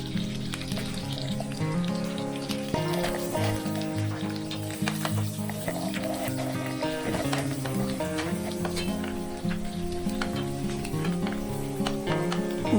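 Garlic and onions sauté in a pan beside browned pork belly for sinigang. A continuous sizzle runs under dense stirring and clattering, with a busy, tonal background throughout.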